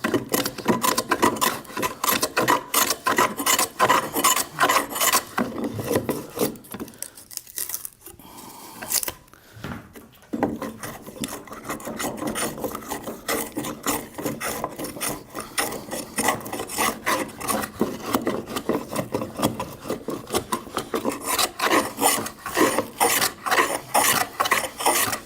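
A hand plane is pushed across a board held between a bench dog and vise, making loud continuous rasping strokes that peel thick shavings, with a brief pause midway before the planing resumes.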